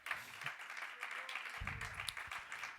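Congregation in a church claps along, a diffuse, fairly faint patter of many hands with a low rumble and some voices beneath it.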